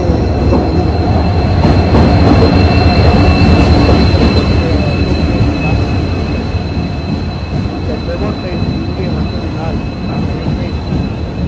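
The Secunderabad–Ramanathapuram train arrives at Adirampattinam station with a loud, steady rumble of wheels and carriages and a faint high squeal, sustained throughout at close range.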